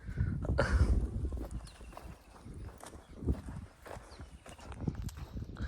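A mare's hooves clip-clop on the ground at a village fair in Lothiya, Gujarat, a steady walking rhythm that is fairly close and moderately loud, with faint background noise.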